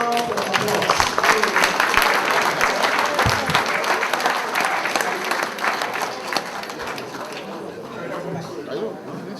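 Sustained audience applause at a lecture session of the Egba National Convention, dense clapping with crowd chatter and voices mixed in, loud and steady throughout before easing slightly toward the end.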